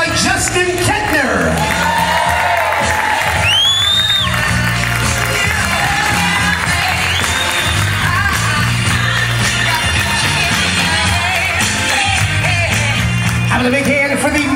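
Wedding guests at a Lakeview Pavilion reception cheer and whoop loudly over music, a dense, continuous crowd roar with shouts and whistles rising throughout.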